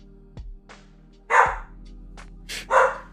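A house dog startled by fireworks gives two loud, close barks about a second apart, with a couple of fainter yips and soft knocks between them.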